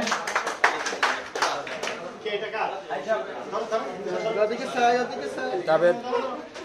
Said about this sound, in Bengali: সবাই জুড়ে করতালি দিয়ে